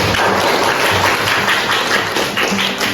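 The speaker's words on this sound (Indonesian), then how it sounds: "berikan tepuk tangan untuk kelompok 4" Classroom group applauding group 4 after their presentation, a dense, steady wash of many hands clapping close by for about three seconds with no talk over it.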